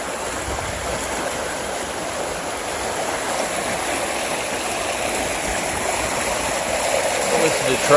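Water pours steadily from a pipe into a ditch choked with detritus after rain, a continuous near rushing hiss that holds even throughout.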